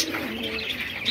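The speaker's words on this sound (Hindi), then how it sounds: "ये कबूतर है" Pigeons at a pigeon market in Kuwait coo and chirp close by in a steady, continuous chorus, with soft overlapping calls and no voices.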